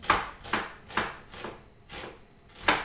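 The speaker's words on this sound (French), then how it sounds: "faire des petites tranches régulières de votre oignon" Knife slicing an onion into thin, even slices on a board, heard as a steady rhythm of six close, crisp cuts about half a second apart.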